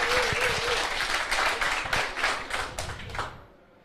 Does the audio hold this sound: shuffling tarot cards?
no